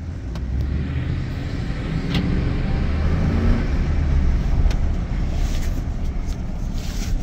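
A 2007 Dodge Ram 1500 SLT pickup truck drives off, its engine rumbling steadily and building a little as it pulls away, with wind buffeting the microphone.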